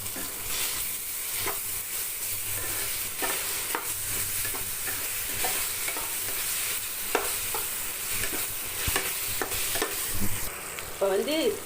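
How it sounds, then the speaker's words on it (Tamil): Ginger garlic paste frying for a chicken chilli gravy: a steady sizzle runs throughout while a spoon scrapes and stirs the pan in repeated strokes, close and clear, without talk. "நல்லா வதங்கிருச்சு இப்போ வந்து இஞ்சி பூண்டு பேஸ்ட்டு போடலாம்"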